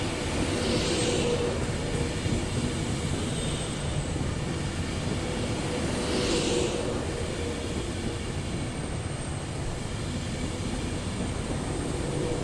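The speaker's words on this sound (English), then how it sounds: "And that train, despite the speed it's going now, it will pick up" A train coasts through South Parkway station, rumbling past steadily with a constant broad roar, and a couple of faint higher whooshes drift through, no voices.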